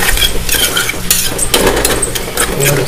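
Squid being stirred in a hot oil pan, a dense continuous scraping and clinking of a utensil against the pan over steady sizzling, close and loud throughout.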